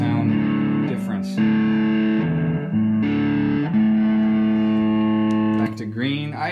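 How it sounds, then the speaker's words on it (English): Electric guitar through a Marshall JTM60 amp on its red overdrive channel, held distorted chords ringing loud and sustained, changing a few times, with a brief voice near the end. "change it to red, you get an idea of the sound difference."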